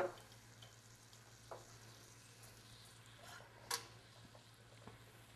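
Garlic and vegetables sauteing in grapeseed and extra virgin olive oil, a soft steady sizzle with occasional clicks and stirring taps of a utensil against the pan.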